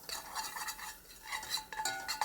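A spoon scrapes and stirs browned ground beef for Salisbury steak in a pan, making a quiet run of close, irregular scraping strokes with light clinks and no talk.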